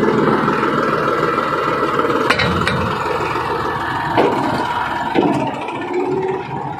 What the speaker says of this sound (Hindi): अभी मैं जाऊंगा ट्रैक्टर पे